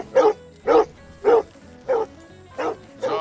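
A dog in Red Dead Redemption 2 barks six times in a steady rhythm, each bark short and mid-pitched, fairly close and clear against a quiet backdrop.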